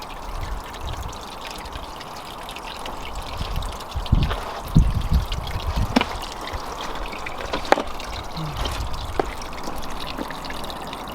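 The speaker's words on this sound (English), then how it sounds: "We've got the Spillway Aquascape 12-inch DIY spillway that will put water over the top of that big stone" Water pours steadily over an Aquascape 12-inch spillway waterfall into a garden pond, a continuous close splashing rush with occasional louder splashes and no talk.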